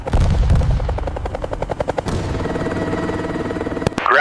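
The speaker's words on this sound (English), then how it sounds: "The helicopters would now take over." Helicopters flying low over a battlefield, a loud rhythmic rotor thump close overhead with engine roar and bursts of gunfire-like cracks mixed in.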